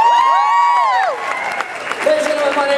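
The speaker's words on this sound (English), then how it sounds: "Big cheer for Alyssa." An audience cheers and applauds loudly at a live show, with a sustained swell of clapping, whoops and shouting voices that stays strong throughout the short burst.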